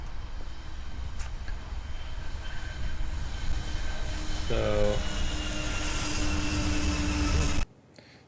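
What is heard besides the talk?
train going by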